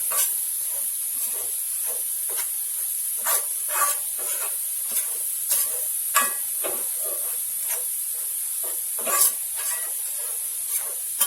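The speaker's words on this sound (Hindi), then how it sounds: "अच्छी तरह से इसको भूनिए। फ्राई करिए।" Gram flour roasting in a pan for halwa gives a soft hiss with repeated scraping and stirring strokes, each stroke brief and fairly close, over a quiet background.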